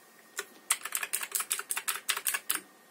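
A James Donkey 610S mechanical keyboard with blue switches is typed on in a quick run of sharp, clicky keystrokes. The presses are close and distinct and fall in an uneven rhythm, with no voice over them.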